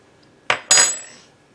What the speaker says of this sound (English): I'm going to mix this all together.